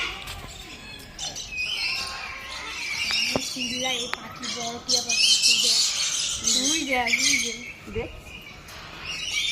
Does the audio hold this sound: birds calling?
yes